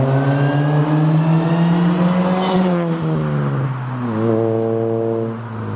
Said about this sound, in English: When you put your foot on that throttle and you hear that supercharger start screaming